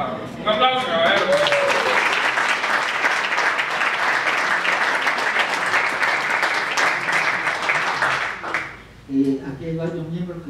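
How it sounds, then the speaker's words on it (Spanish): An audience gives a long, loud burst of applause in honor of the Cuban choral group, dense clapping that cuts off abruptly near the end before voices resume. "¡Un aplauso, caballero!"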